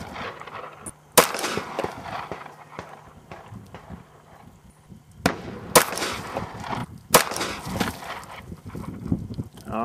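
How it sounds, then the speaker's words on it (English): Several sharp .380 pistol shots with 100-grain hardball rounds fired at bottles on a windy, rainy outdoor range, loud and close with quieter gaps between reports. "we're gonna try a few 380 100 grain hardball rounds at those two bottles"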